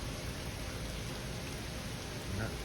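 Rain falling outdoors in a Mexican wildlife setting over sandy peat ground, a steady, soft hiss of drops without any voices.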